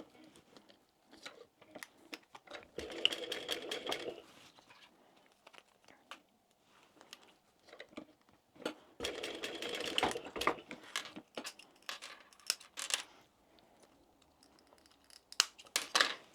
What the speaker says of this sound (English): I'm just going to baste along the edge